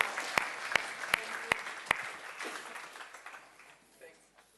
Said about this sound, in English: I think that's worth an extra applause for your performance.